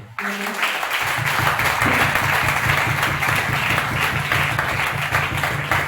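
Applause breaks out after a brief pause and continues as a loud, sustained wash of clapping from a gathered audience at a testimony service, with a low hum underneath.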